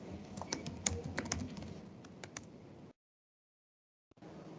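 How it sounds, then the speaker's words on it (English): Rapid, close keystrokes on a computer keyboard as a password is entered for an SSH login to an Azure cloud server, a dense clatter for about three seconds, then silence and a brief resumption. "And type the password."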